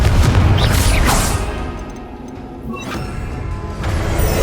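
The Confringo explosive curse bursts in Hogwarts Legacy, a loud booming blast at the start followed by a rumbling tail and further sharp impact cracks later, with no speech over it.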